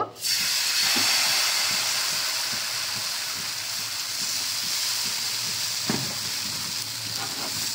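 Patishapta batter poured into a hot oiled kadai in a Bengali home kitchen gives a sudden loud sizzling hiss that settles into a steady broad frying hiss, with a few faint clinks, and no talk.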